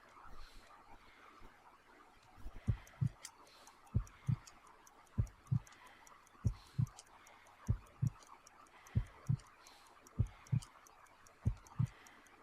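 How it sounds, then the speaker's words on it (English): A slow heartbeat in the game Sherlock Holmes: Crimes & Punishments, a weak pulse of around 50 beats per minute. Soft, steady paired thumps repeat about every 1.3 seconds over a faint hum. "I need to concentrate and count the heartbeats."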